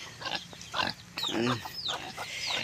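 Pigs on a backyard farm grunt and squeal in several short, close bursts, with a rooster or chickens faintly mixed in.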